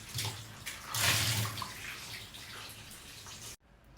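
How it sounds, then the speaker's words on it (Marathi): Potatoes being washed under a running tap at home to clear off soil, a steady close water splash that rises and falls with handling before stopping abruptly near the end. "आता बटाटे धुवून घेते त्याला खूप माती वेगळं धुवून घेते"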